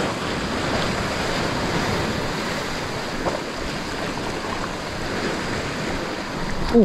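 Ocean waves wash onto a shallow shore in continuous rolling surf, close and fairly loud, with wind buffeting the microphone and a brief knock near the end.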